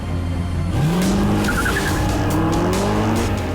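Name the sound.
Mercedes SLS AMG petrol V8 and electric cars racing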